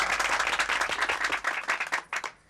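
A group of women gathered at an apartment building breaks into lively applause. Quick overlapping claps come at a steady pace, thin out into scattered separate claps and then stop.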